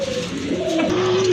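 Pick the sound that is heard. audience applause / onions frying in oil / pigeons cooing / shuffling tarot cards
pigeons cooing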